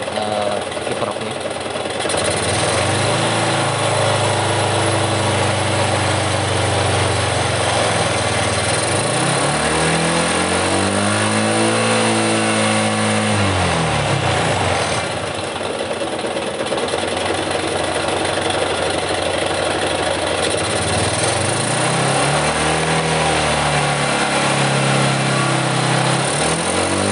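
A motorcycle engine idles steadily while its voltage regulator is tested, the throttle opened twice so the loud, close engine note climbs in pitch, holds, then drops back to idle.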